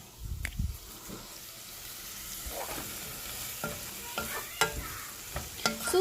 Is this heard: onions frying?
yes